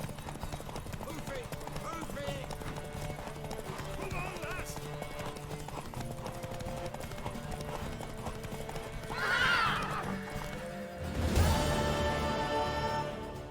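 A horse's hooves clip-clop in a rapid steady rhythm throughout, with a loud whinny near the end, while people talk and call out over it.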